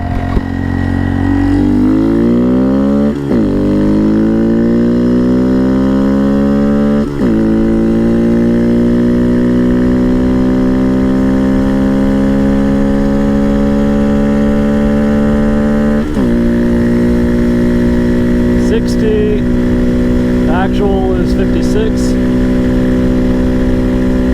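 A 2019 Honda Monkey with a 14-tooth front sprocket on a top-speed run from a rolling first-gear start: the small single-cylinder engine drones loud and close, its pitch climbing steadily through each gear with brief dips at the shifts, then holding near the top.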